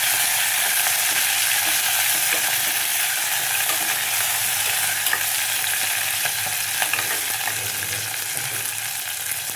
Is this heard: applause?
no